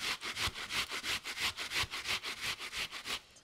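A yellow onion grated on a box grater, rapid rhythmic rasping strokes repeating about four times per second, close and fairly quiet, with no talking.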